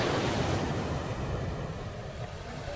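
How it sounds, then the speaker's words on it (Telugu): Ocean waves break at Alleppey beach in a broad, continuous roar of surf, with wind buffeting the microphone. "అదిగోండి అక్కడ ఇప్పుడు పెద్ద అలలు ఉన్నాయి."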